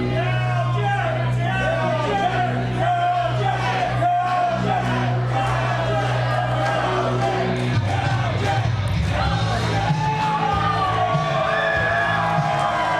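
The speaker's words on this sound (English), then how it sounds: "And listen to this crowd erupt" A wrestling crowd at a hometown pro wrestling show in Vacaville roars as a local wrestler makes his entrance, with loud sustained cheering, whoops and shouts under music and a busy arena din.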